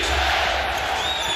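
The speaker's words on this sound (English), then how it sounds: "Crowd on its feet, chanting defense." A basketball arena crowd roars steadily during a Lakers vs Nuggets Western Conference Finals Game 3, the dense, loud wash of voices on its feet holding constant throughout with no clear pauses.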